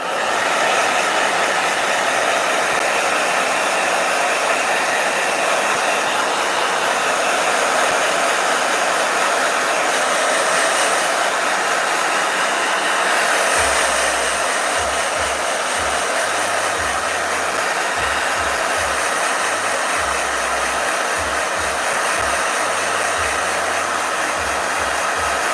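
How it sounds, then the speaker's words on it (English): A hair dryer runs steadily and loudly throughout, a continuous broadband whoosh with no breaks, used while working on Canson watercolor paper. "Blow dryer."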